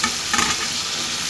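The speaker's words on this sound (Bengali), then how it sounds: "এখন ভালো করে এটাকে কষিয়ে নিতে হবে।" Small red potatoes and vegetable stems sautéing in a pan for a rohu fish curry, a loud, close, continuous sizzle with some stirring, heard alone for a brief moment.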